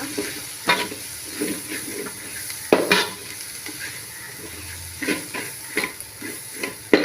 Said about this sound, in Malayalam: നമുക്കൊരു കാൽ കാൽ ടീസ്പൂൺ ഒന്നുകൂടെ ഇളക്കി യോജിക്കാം